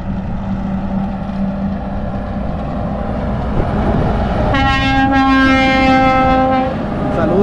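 A loud, sustained multi-tone truck air horn blasts for about three seconds over steady engine rumble and traffic noise on Ruta 5 Norte.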